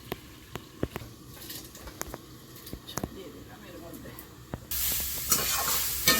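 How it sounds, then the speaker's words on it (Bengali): Food frying in a pan, a utensil clicking and scraping in sharp taps over a low sizzle, then a sudden loud hiss swelling toward the end, with talking in the background. "ভালো করে ভেজে নিয়েছি"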